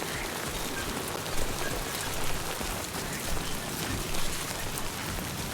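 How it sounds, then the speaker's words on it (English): Steady rain falls in the video game Death Stranding 2, a dense, continuous hiss of drops on surfaces heard alone, with no talk and only slight swells in loudness. "Rain falling upstream."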